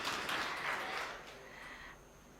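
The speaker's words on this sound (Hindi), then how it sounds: "एक बार और जोरदार तालियां आप डॉक्टर सुनीता दीदी के लिए बजा सकते हैं।" Applause from the audience at a national media conference at Gyan Sarovar, Abu Road. The clapping is fairly quiet and thins out, fading over about two seconds into a low background hush.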